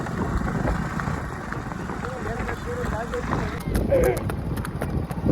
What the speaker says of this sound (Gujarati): આપણને મહેમાન ઘોડી લઈને લેવા આવ્યા છે.